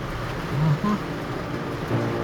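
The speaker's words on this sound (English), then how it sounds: "Raining just a little bit." Light rain falls at night on a solar farm in a steady soft hiss, an even wash of patter with a few faint low murmurs underneath.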